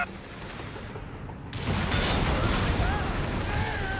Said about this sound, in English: the 2-inch mortar out the back